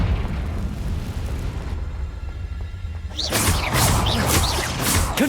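A Confringo fire spell explodes in Hogwarts Legacy, first a rough rushing roar, then a loud burst that leaves a bright crackling, whooshing blast trailing off.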